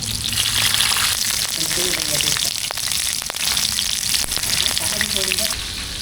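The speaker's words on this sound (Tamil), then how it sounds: "அரை அரையாக பொரிச்சு எடுத்தால் கொஞ்சம் டேஸ்ட் இருக்கும்" Food sizzles and crackles steadily in hot oil throughout, frying for maqlooba in a home kitchen, with a few brief voices murmuring over the frying.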